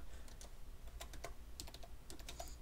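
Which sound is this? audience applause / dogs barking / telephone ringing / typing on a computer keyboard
typing on a computer keyboard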